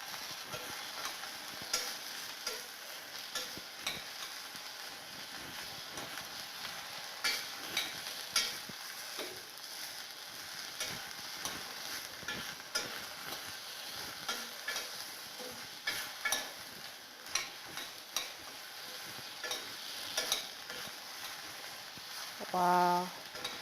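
Oil shallow-frying in a small sufuria gives a continuous close sizzle, with repeated stirring clicks and scrapes across the whole stretch and a brief voice at the end.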